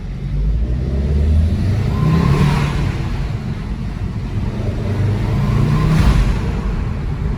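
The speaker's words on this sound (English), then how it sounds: "I absolutely love the intake. It just, the sound that it gives, the turbo." A turbocharged MK6 Volkswagen Jetta GLI 30th Edition engine with an aFe Power intake drones loudly and steadily with a couple of rising surges of revving, the rumble close and continuous throughout.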